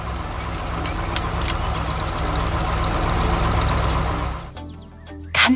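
Animated orange wheeled excavator and blue dump truck engines rumbling together at a desert oasis pond build, a steady loud idling drone with knocking texture that drops off near the end before a brief sharp sound.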